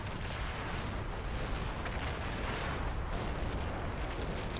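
Dense gunfire in the Combat Mission: Black Sea video game as a building gets shot up, a dense, unbroken barrage of overlapping shots and rumbling impacts at steady loudness.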